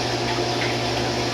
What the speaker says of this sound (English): Be careful how you pour your chlorine.